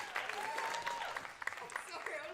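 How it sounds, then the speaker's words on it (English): Audience applause at a student union election night, a dense crowd clapping continuously with cheering and voices mixed in throughout. "Another round of applause for everybody."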